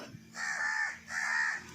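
Two harsh caws from a single crow, fairly close and clear, spaced about half a second apart against a quiet outdoor background.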